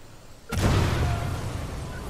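Explosion in the video game Watch Dogs 2: after a quiet moment, a sudden loud blast hits and then rolls into a long, heavy rumbling roar that slowly fades.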